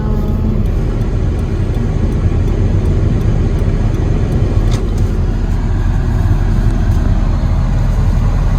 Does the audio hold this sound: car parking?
yes